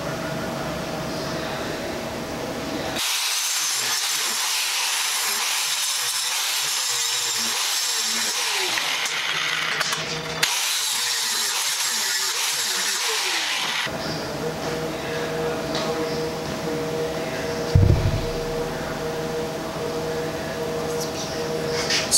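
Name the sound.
back gouging an aluminum weld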